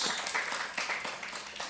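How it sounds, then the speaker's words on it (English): Brief, dense clapping from attendees of a weekly project meeting, a soft even patter of many hands lasting just under two seconds at low volume. "So a big round of applause for our tech speakers."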